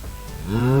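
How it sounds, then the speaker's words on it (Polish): A spawned cow in the Minecraft video game gives a single drawn-out moo that rises and swells toward the end, loud and close, with no talk over it. "Krowę o nazwie Bizon."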